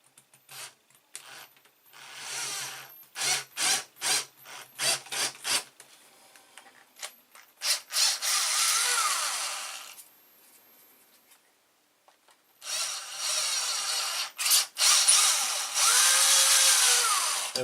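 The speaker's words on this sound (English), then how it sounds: "Just got to be steady when I drill it." A hand drill bores a hole in a hard fishing lure copy, coming in short bursts of whirring and grinding with pauses between, then two longer rising drill runs near the end.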